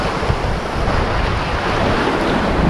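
A strong water current and rushing waves roar at a fishing spot during high tide, a loud, continuous wash mixed with wind buffeting the microphone.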